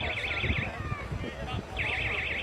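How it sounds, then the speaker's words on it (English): Alarms sound at a burning leisure centre in Larne: a loud warbling electronic tone that runs, breaks off briefly, then returns, over rumbling background noise and indistinct voices. "The alarms are going off."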